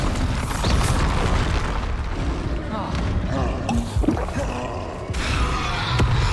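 Bombarda blasting spell from Hogwarts Legacy erupting in a loud booming explosion amid dense game noise, with sharp bursts near the middle and end of the clip.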